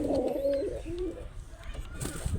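Pet pigeons in a loft coo softly in low, rolling calls near the start, with faint rustling and quiet background noise afterward.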